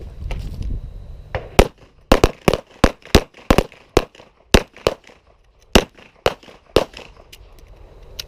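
Pistol shots are fired at targets on a defensive shooting range, about fifteen sharp, loud cracks coming in quick clusters with short pauses between them, alone with no talk.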